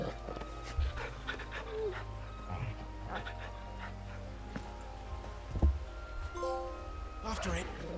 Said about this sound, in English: You can pet the dog.